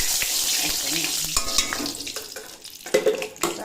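Ghee sizzling and spitting in a hot kadai while cooking palak paneer, a steady close frying hiss with scattered crackles and a few clinks, no voices.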